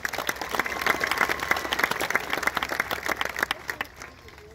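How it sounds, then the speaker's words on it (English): A crowd claps steadily at a graduation ceremony honoring military enlistees. The applause is dense and sustained, then thins out and fades near the end. "let's give them another round of applause for their commitment to the country"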